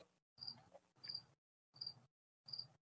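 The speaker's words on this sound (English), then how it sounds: "Whose cricket is that?" A cricket chirps outside an open window, four separate high trilling bursts spaced about half a second apart, faint and alone with silence between them.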